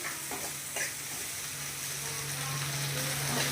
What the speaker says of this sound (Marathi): हे बघा आपले आता टोमॅटो ह्या फोडणीमध्ये गळलेले आहेत।